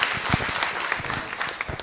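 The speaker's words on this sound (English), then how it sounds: "Please can we give a round of applause?" Applause from a workshop and expo audience, steady dense clapping from a crowd filling the room at moderate level, with no voices on top.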